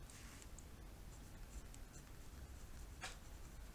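Pen or marker writing out math terms makes soft, quiet scratching strokes over a steady hiss, with a brief sharper stroke near the end and no talk.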